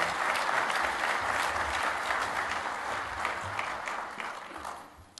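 Lecture audience at a fisheries talk applauding to welcome a speaker, a dense even burst of clapping that holds steady and then tapers off toward the end.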